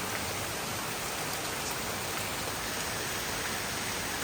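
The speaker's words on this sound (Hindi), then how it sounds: "कितनी ज़ोर से बारिश हो रही है" Heavy rain falls steadily as a dense, even hiss of countless drops on surfaces nearby, with no voices and no pause across the whole stretch.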